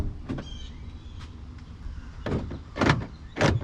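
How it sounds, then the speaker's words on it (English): Rear door locks of a Ford F150 crew cab cycling after a harness replacement, a series of sharp mechanical clunks, a few faint then three louder actuations near the end, close and without talk. "he's gonna lock and unlock the doors"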